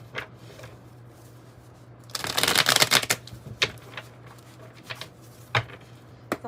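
A deck of oracle cards is riffled and shuffled close up, a dense crackling burst of card flutter lasting about a second, then scattered lighter taps and flicks as the cards are handled, with no talk.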